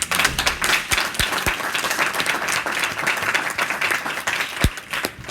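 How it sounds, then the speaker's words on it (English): Audience at a women's church conference clapping their hands, a loud, sustained round of applause with sharp individual claps standing out near the listener and a few voices underneath. "Can we just clap our hands for that?"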